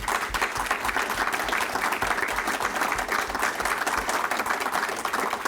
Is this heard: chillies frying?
no